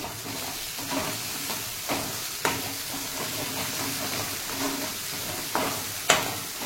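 Matar paneer masala is stirred in a pan with coriander powder, giving a steady close sizzle broken by repeated scraping and clacking strokes of a spoon against the pan.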